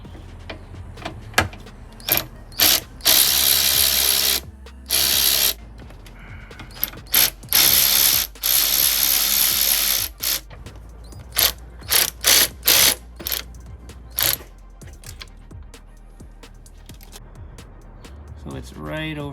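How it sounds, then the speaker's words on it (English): Bursts of rapid ratchet clicking as a 6mm socket on a swivel extension turns fasteners on a BMW M3 E90 fuel injector job, irregular runs of loud close clicks separated by pauses. "So I'm gonna use a 6mm socket to get to these with a swivel extension"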